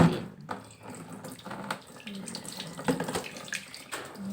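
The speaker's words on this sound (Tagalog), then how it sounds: "Hugas muna ako kamay." A kitchen water tap runs while hands are washed beneath it, a steady splashing stream broken by uneven gushes as the flow is disturbed, close and moderately loud with no talk.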